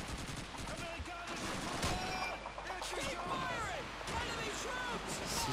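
Bursts of gunfire from the video game Call of Duty 2 in a Hill 400 battle, with repeated rapid shots and heavy impacts, while someone talks over the fighting.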